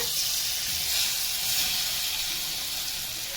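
Ingredients for Rayalaseema-style gongura chutney fry in hot oil, making a loud, steady sizzle and hiss that continues without a break.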